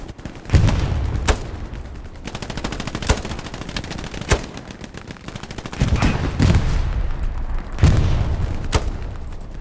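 Gunfire in the World War II shooter Hell Let Loose: bursts of automatic fire with sharp, loud single shots and booming reports, rattling continuously at close range throughout.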